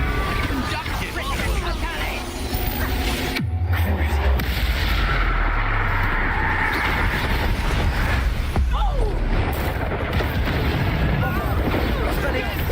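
Blasting spell explosions in Hogwarts Legacy burst over a busy stream of combat noise, with a sharp loud blast near the middle and another later, while a voice talks throughout.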